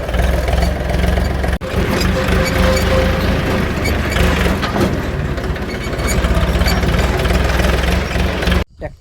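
A tractor engine runs steadily and loud and close in a dark farm setting by a poultry shed, a constant low chugging rumble that cuts off abruptly at the end.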